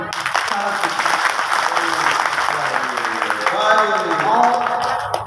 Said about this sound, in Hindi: इसके लिए वो अच्छे से ताली बजाना तो बनता ही